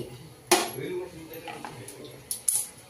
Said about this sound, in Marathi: आता मी ही कढई ठेवलेली आहे